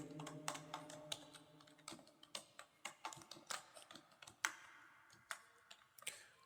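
Light, uneven clicks of a computer keyboard as data is typed into an Excel sheet, with individual keystrokes and short bursts spread across the clip, quiet and close.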